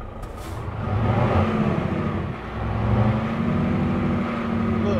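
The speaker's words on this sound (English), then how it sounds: "The engine sound and everything's a little bit too loud." A Peterbilt 579 truck engine in American Truck Simulator pulls loud and steady from the cab, a deep droning rumble that dips briefly midway before climbing again as the truck accelerates.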